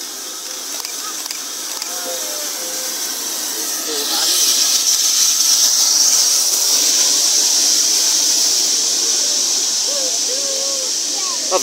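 A passing steam locomotive at a September 2023 trainspotting event gives a steady broad hiss that swells from about the midpoint and holds loud to the end, with some faint chatter underneath.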